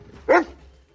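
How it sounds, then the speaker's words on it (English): A single sharp bark from a young, partly trained elven warhound, close and loud, a short burst over a quiet background. "The two elven warhounds, young but not pups, trained but not perfectly trained. You hear them lose their minds as they bark."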